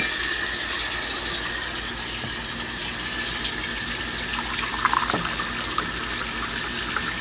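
Tap water running steadily and continuously from a faucet, a close, even hiss of flowing water with no talk.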